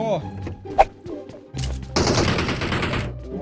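A burst of rapid automatic gunfire from an M4 rifle in PUBG Mobile crackles loudly for over a second, after a few sharp earlier shots and some clicks, then stops abruptly.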